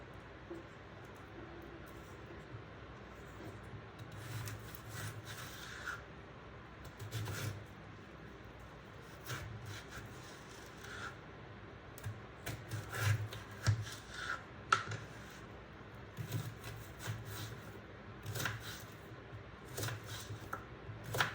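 A knife cuts through stacked yam pieces to make cubes, giving soft repeated chopping and rubbing strokes on a board. The strokes come close and fairly quiet, with no talk over them.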